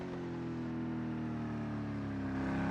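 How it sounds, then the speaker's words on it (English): A Ford race car engine in a racing game at the Nurburgring Nordschleife hums with a steady mid-pitched drone that builds slightly toward the end, fairly faint, with no voices. "hearing what sounds like a Ford there at the moment"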